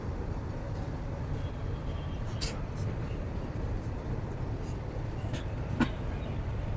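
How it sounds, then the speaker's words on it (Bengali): A train pulls away from Nilphamari railway station in a steady, broadband rumble heard from on board, with occasional sharp clicks and squeaks over the continuous roar; a voice murmurs faintly underneath. "ফাইনালি আমাদের ট্রেনটি ছেড়ে দিল নীলফামারী রেল স্টেশন থেকে"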